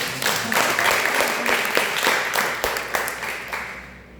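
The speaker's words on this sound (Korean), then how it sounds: "박수 한번 해요" A church congregation claps for a pastor in a dense burst of applause that stays steady and close, with a few sharper claps standing out before it begins to thin toward the end.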